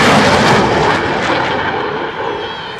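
Eurofighter Typhoon jet at an airshow display, a loud broadband roar that is strongest at the start and eases slightly as the aircraft moves away.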